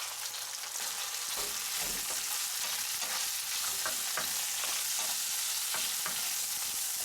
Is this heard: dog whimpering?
no